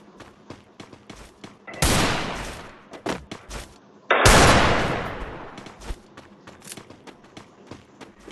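Gunfire in a battle royale video game comes as two loud, long bursts of rapid shots, with scattered sharper single cracks and footsteps around them.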